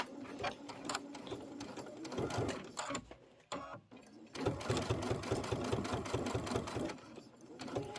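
A sewing machine stitches quilt fabric in fast, even rhythmic bursts with a short pause midway, heard close and clear with a faint voice underneath.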